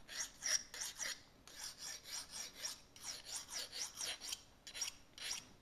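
A knife is drawn repeatedly across a homemade sharpener, giving a rhythmic series of rasping strokes in quick bursts, close but fairly quiet.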